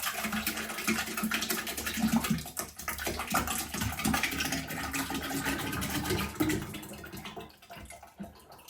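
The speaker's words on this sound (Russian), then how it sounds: "Заливаем сметану в эту емкость." Thick sour cream poured into a container, a continuous wet, sloshing pour with soft glugs and splashes running for several seconds before tapering off, close and fairly loud with no talk.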